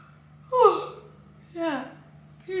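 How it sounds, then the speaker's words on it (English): A woman yawns in a casual home setting, two drawn-out breathy yawns close to the mic with a third starting at the end, over a faint steady hum. "I'm so sorry for yawning like this."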